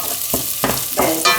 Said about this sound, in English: I'm still stirring.